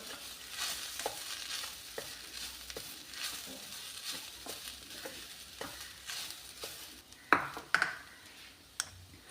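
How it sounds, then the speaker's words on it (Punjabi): A spoon stirs paneer through a semolina and gram flour mixture in a pan while making laddu, giving soft scraping and gentle sizzling with scattered metallic clinks and taps against the pan. "ਪਨੀਰ ਨੂੰ ਵੀ ਆਪਾਂ ਸੂਜੀ ਬੇਸਣ ਦੇ ਵਿੱਚ ਚੰਗੀ ਤਰ੍ਹਾਂ ਮਿਕਸ ਕਰ ਲਿਆ ਚੰਗੀ ਤਰ੍ਹਾਂ ਲਗਾਤਾਰ ਆਪਾਂ ਇਹਨੂੰ ਹਲਾਈ ਜਾਵਾਂਗੇ"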